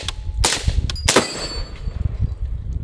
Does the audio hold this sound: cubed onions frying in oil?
no